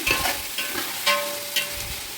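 Tomatoes and onions sauté in a pan for biryani, a brief close sizzle punctuated by several quick spatula scrapes; no speech.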